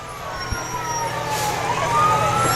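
Empire Volunteer Fire Department Engine 4211 sounds its wailing siren during a Christmas parade in Toronto, a rising tone that swells steadily louder as the truck draws nearer.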